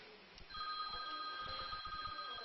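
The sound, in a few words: telephone ringing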